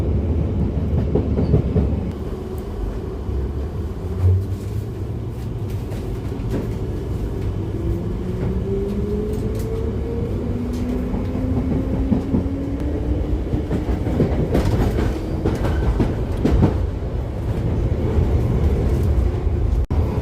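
London Underground train running between stops, a loud, steady low rumble and rattle of carriages with rising and falling motor whine, heard from inside the car throughout.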